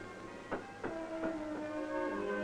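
A 1950s train loaded with old railway track pulls away over newly laid rails, with rumbling, a few metallic clanks and squealing, ringing tones from the wagons, continuous and moderately near, no talking.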